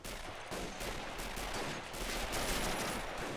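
Dense machine gun fire from a World War One urban bridge battle in Men of War Assault Squad 2, sustained rapid bursts overlapping with other gunfire in a loud, continuous roar with no pauses.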